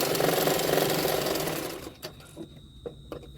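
A sewing machine stitches along a folded extra fabric piece on a size 34 double katori blouse, a loud steady whir for about two seconds that then stops, leaving a few soft clicks and handling taps.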